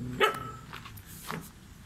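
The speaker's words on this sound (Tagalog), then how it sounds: "May aso tayong kasama." A dog barks once sharply and close, then a couple of fainter yips follow over a quiet background hum, in a mountain village in Itogon, Benguet, Philippines.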